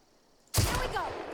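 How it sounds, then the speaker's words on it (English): An assault rifle in The Outer Worlds opens up after a quiet moment: a sudden loud burst of gunfire with sharp reports and a trailing echo, brief and close. "Maybe I'll use the assault rifle."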